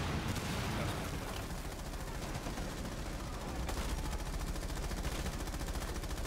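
Rapid, continuous video-game gunfire fills the scene, a dense run of loud overlapping automatic shots with no pauses and no talk over it.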